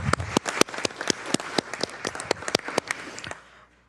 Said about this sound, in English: just one more round of applause for those who received presentations today.